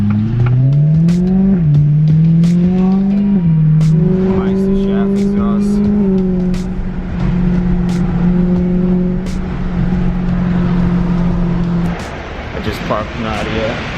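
A BMW E93 M3 engine idles and revs with a steady low drone, pitch rising and dropping in steps, heard up close with some talking over it.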